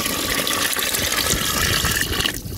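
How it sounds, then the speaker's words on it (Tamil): Water poured into a pot of Tamil papad kara kuzhambu made with tamarind water and rock salt, a steady close splashing gush filling the pan for about two seconds before it stops. "தண்ணி ஊத்துறீங்களா?"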